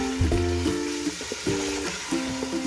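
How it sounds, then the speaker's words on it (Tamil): Ginger-garlic paste and yogurt sauté in oil for a white mutton biryani, a soft, steady sizzle with faint low humming tones drifting over it. "நல்லா எண்ணெய் பிரிஞ்சு வர அளவுக்கு நல்லா வதக்கணும்"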